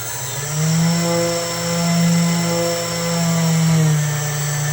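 Thrusters on the Nautilus submarine in drydock are stepped up in throttle, giving a steady mechanical drone with a strong low hum. The tone swells and eases in several broad surges, loud and close, with no talk.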